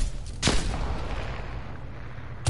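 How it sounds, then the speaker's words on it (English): Gunfire in the shooter game Call of Duty Cold War: two sharp, loud shots about two seconds apart over a low ambient background. "Good shooting."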